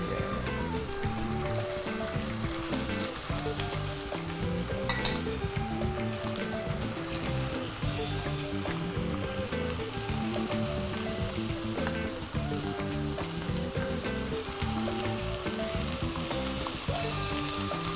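Loud, steady sizzling from fish skin searing in a hot pan, continuing unbroken from start to finish.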